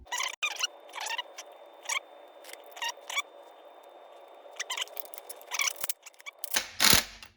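A 10mm ratchet tightens shifter screws during an automatic-to-5-speed shift linkage and shifter install, giving close, repeated bursts of quick ratcheting clicks separated by short pauses, with no talking.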